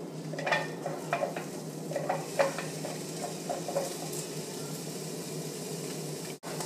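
Onion sautéing in a little oil in a pan for chicken fajitas: a steady close sizzle with scattered light scrapes and clicks of stirring, no voices.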